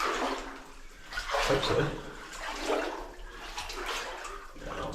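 Sloshing and splashing as someone wades crouched through deep water and mud inside an old New Zealand gold mine tunnel, irregular watery surges close by, with a brief spoken remark.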